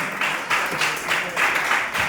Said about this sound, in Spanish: Démosle otro fuerte aplauso a la palabra de Dios.